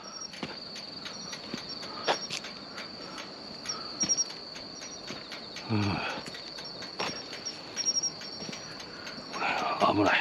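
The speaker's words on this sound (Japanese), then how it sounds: "コオロギがいっぱいおるわ" Crickets by a road in Japan keep up a thin, continuous high trill with short chirping bursts on top, while intermittent clunks, thumps and a brief rumbling pass break in nearby.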